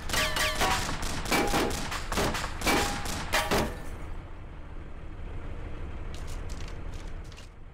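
Gunfire in the video game Arma with the Wasteland mod: a run of loud, sharp shots crackles for a few seconds, then fades to silence before several fainter, scattered shots.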